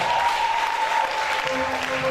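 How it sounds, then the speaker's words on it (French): Sustained applause from a church audience at an evening Bible quiz game, steady and dense clapping throughout with a faint tonal hum beneath. "remercions le Seigneur par un applaudissement s'il vous plaît"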